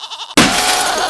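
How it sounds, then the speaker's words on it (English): A goat gives a short, wavering bleat, then a loud, sudden crashing burst swamps everything and holds to the end. "Hey look, it's an ugly goat!"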